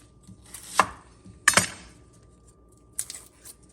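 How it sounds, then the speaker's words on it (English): A knife slices through a peeled sweet onion on a cutting board, giving three separate sharp cuts with thuds on the board, spaced apart against a quiet background. "Gonna peel this outer layer off. Then just slice it like so."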